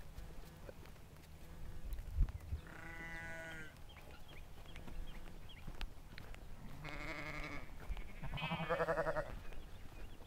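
Sheep and lambs bleat in several drawn-out calls, one early and two louder ones later, over a quiet outdoor background with faint shuffling.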